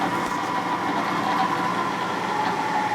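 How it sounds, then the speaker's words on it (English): A machine tool spot faces a part for a big bore Harley shovelhead stroker motor, a steady droning hum with a faint whine and a rough cutting grind, continuous and fairly close with no talking. "now I just go down and spot face it until it's just right"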